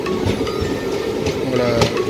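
Onboard the Tiruchendur Express arriving at a station, a steady rolling rumble with metallic clinks and rail clatter, close and continuous.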